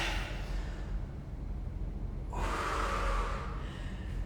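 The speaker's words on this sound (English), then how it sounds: "We breathe a lot in Pilates because deep breathing is really important" Deep breathing during a Pilates workout: a long exhale followed by a strong, close inhale, heard alone without talk.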